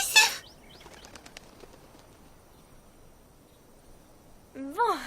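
Birds flapping their wings as they return in a My Little Pony cartoon: a burst of rapid fluttering at the start, quiet light flaps and rustles, then a voice at the end.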